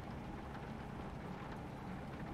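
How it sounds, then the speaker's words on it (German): Steady rain in the truck-driving game Euro Truck Simulator 2 while on the road in Sweden, a continuous broadband hiss with a low rumble underneath, even and unbroken throughout with no voices. "der Regen, der passt ganz gut zur Stimmung"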